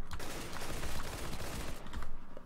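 Rapid automatic AK rifle fire in CS:GO, a dense, continuous burst of close, loud shots with no talk over it.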